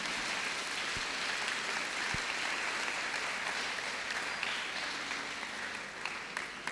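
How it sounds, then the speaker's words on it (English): Steady applause from an audience at a youth empowerment event, a continuous rain-like wash of many hands clapping at moderate distance, with a couple of sharper claps early on and no talk. "join me once more to give ourselves a round of applause for coming."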